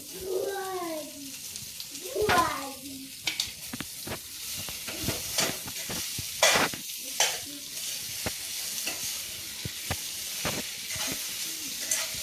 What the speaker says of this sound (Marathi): बटाटे व्यवस्थित परतून घ्यायचे